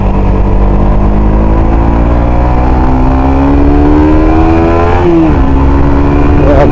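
A Suzuki GSX 150 motorcycle engine runs loud and close, its pitch climbing steadily as it revs in gear, then dropping briefly at a gear shift before rising again.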